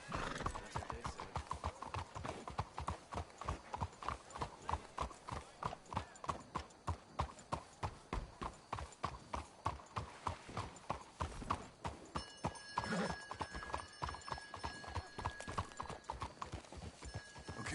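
Horse hooves clip-clopping in Red Dead Redemption 2, a steady rhythmic trot of sharp close beats continuing throughout, with a whinny and brief game tones partway through.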